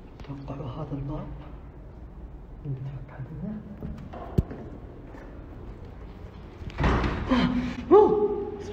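A loose old door in an abandoned house thuds once with a sharp bang mid-clip, followed by heavier knocking and rattling near the end, close and fairly loud, with someone speaking around it.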